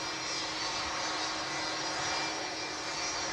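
A Boeing 757 airliner at Manchester airport produces a steady, distant jet roar with a broad hiss that holds at a fairly even level, with no voices.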